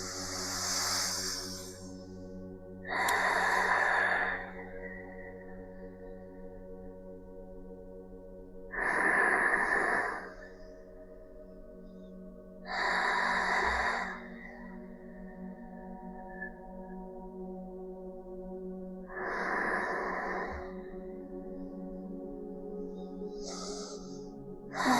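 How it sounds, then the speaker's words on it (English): Slow, deep breathing in and out during a calm stretching session, close and clear, with about five long breaths spaced evenly over a soft, steady background tone. "We'll inhale and exhale for 3 rounds"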